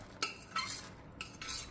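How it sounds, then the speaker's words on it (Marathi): Boiled moth beans (matki) go into an oily onion-tomato paste and get stirred, giving a few quick scraping clinks of a spoon against the pan with a soft wet rustle between them, close and fairly quiet. "सो मग आता ही उकडलेली मटकी ह्याच्यामध्ये टाकायची"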